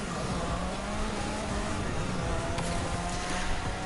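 Engine of a 2016 Porsche 911 GT3 RS Type 991 revving and pulling away at the start of a race in The Crew 2, a steady loud drone with rising tonal whine throughout.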